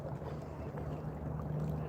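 Wind in Oklahoma rumbles steadily against the microphone, a low constant buffeting with a faint hum beneath, continuous and close throughout.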